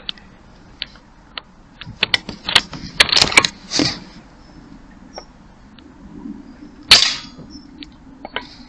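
An AP900 air rifle fires pellets at a wet tin can, producing sharp cracks and metallic ticks scattered irregularly, with a couple of louder bursts and a clear hit near the end, all close and without speech.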